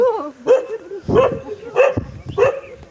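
Four evenly spaced dog barks, close and clear, imitated by a human voice.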